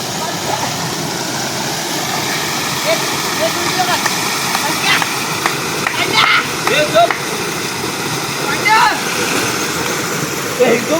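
A village waterfall at an outdoor swimming spot pours in a steady, loud, broadband roar that fills the whole clip, with a few people talking over it.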